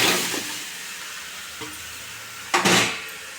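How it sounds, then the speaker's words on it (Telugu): Okra frying in oil in a pan on a stove, with a steady low hiss, a few soft stirring clatters, and a louder sizzling burst near the end. "ఇప్పుడు స్టవ్ వెలిగించుకున్నాం తినం పెట్టుకున్నాం బెండకాయలు వేయించుకోవాలి"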